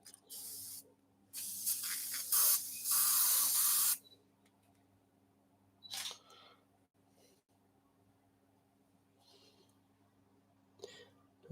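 An airbrush sprays paint in short hissing bursts, one long two-second run followed by a few brief puffs, close and sharp against a quiet background hum.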